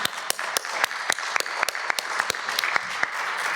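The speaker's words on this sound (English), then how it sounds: "A big round of applause." Applause from a conference audience at a youth forum session, a steady patter of many hands clapping at moderate distance, with no voices over it.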